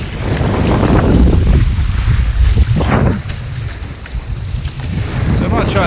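Hobie 16 catamaran sailing in a light breeze, loud rushing wind buffeting the microphone over water wash and hull slap, continuous and close.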